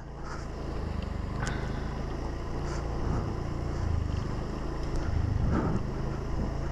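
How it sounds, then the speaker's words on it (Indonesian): A continuous low engine drone of a moving motorcycle, steady and rumbling with some wind rush, no voices. "Ya udahlah pakai motor aja"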